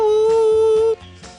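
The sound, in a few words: voice imitating high-pitched telephone dial tone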